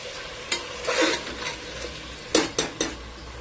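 Mutton frying in a pan with ginger and garlic, a soft steady sizzle broken by several sharp scrapes and clinks of a spoon stirring against the metal.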